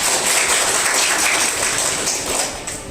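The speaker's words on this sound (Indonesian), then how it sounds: "Kasih aplaus dulu untuk Amanda." A classroom of students applauds a classmate in a finance lecture, a steady wash of clapping that stays loud and gradually thins toward the end.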